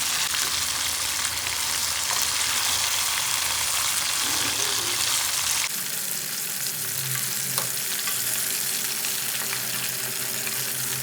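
Chicken frying in hot oil crackles and sizzles steadily, with a brief stir partway through before the frying settles into a calmer bubbling hiss.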